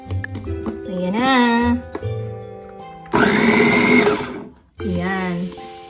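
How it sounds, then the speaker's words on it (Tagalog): A heavy-duty electric meat grinder runs in loud motor bursts between pauses, with a steady whine and a harsher grinding stretch in the middle, and a voice heard around it. "So, this is what we call meat grinder."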